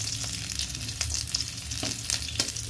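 Chilli and garlic sizzling together in hot oil in a home kitchen, a dense continuous crackle with a few louder pops and stirring scrapes, no voices.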